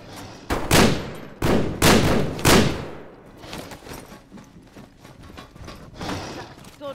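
Gunfire against mutants in the game Metro Exodus, with several loud sharp bursts near the start, then rapid scattered shots and clatter fading into quieter action.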